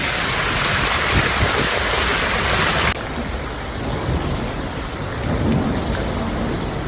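Heavy rain pours in a thunderstorm in Ecatepec, a dense, loud and steady roar with deep rumbling thunder underneath, continuous throughout with no voices.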